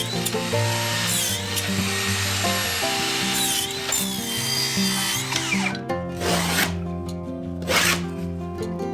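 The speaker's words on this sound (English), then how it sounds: "packing by milling the lumber into small pieces" A power tool cuts lumber into small packing pieces during the renovation of a 40-year-old Japanese house floor. The whirring bursts come in several passes with pauses between them, and wood clatters briefly.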